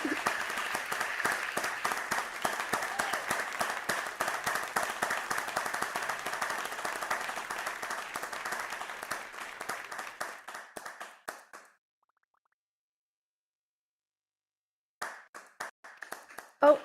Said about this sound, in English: Can I get a warm welcome?